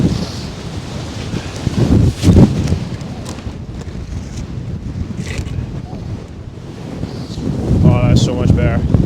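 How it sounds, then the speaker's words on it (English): Strong wind buffets the microphone on a winter mountain summit in Scotland, a steady broadband roar with gusts throughout, and a brief rustle near the end. "It's still so windy and it's so cold"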